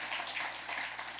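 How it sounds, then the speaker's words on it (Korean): A church congregation gives a brief, dense round of applause after a hymn at a Sunday service, many hands clapping together in an even wash that lasts about a second. "크게 박수 한번."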